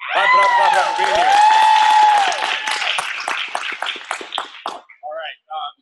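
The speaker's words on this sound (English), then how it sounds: "Clap it up for being here" A voice calls out over the room at a fitness club wellness workshop, then a crowd breaks into scattered applause that thins to a few claps before fading.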